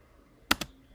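Two quick, crisp computer keyboard keystrokes, close and clear, tapped out while typing Python code against a quiet background.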